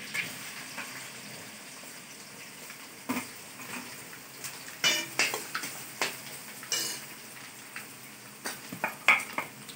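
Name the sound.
onions and chillies frying for kande pohe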